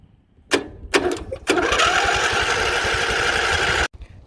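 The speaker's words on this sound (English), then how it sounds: "lay it across these posts here, and you'll see that it will turn over the starter" John Deere lawn mower starter turning over when the solenoid is bypassed, two short bursts followed by a sustained loud whirring crank of about two seconds that cuts off abruptly.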